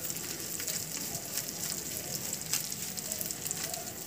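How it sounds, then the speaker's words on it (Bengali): Chili, turmeric and cumin powder fry in a pan with oil for a bhetki fish dish, giving a close, steady, crackling sizzle throughout with no talking. "দিয়ে আবার এটাকে খুব ভালোভাবে কষিয়ে নেব।"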